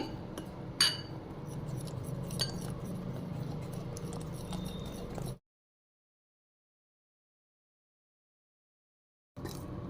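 A whisk beats pongadalu batter in a bowl with quick strokes, making soft sloshing and sharp clinks against the bowl for about five seconds, then everything cuts to silence before a brief return at the end.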